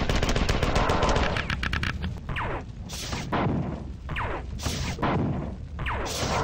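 Rapid bursts of fusion-weapon gunfire from a sci-fi shooter video game, loud and sustained at first, then breaking into separate blasts with sweeping energy tones, with no talk over it.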